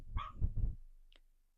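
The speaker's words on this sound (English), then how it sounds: "if you heard my dogs barking in the background" A few quick, fairly close dog barks in a short burst, followed by a faint single yip, then quiet.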